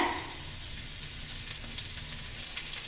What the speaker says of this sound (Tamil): இப்போ நம்ம இந்த தாளிப்பு சாமான்களை இந்த எண்ணெயில் சேர்த்துடலாங்க